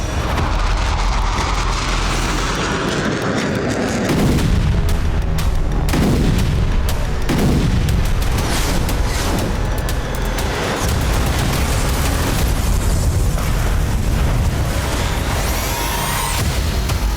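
Strike on the Russian navy headquarters in Sevastopol, with a series of deep booming blasts and rumbling explosions amid continuous loud roar and crackle, several heavy thuds spaced across the stretch.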